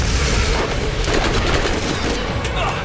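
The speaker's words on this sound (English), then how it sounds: "My ammo clip from the turret regen is so small each time." Turret gunfire in the video game Borderlands rattles in a dense, loud barrage of rapid shots and booms throughout.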